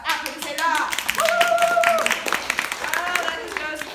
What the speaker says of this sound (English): Classe, applaudissez là!